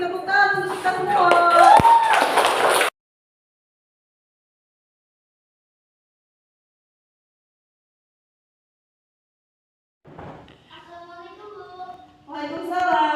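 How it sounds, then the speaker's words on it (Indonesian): A group in a school classroom clapping hands together along with young voices for a few seconds, then a long silence before speech resumes. "Tepuk tangan untuk kita semua."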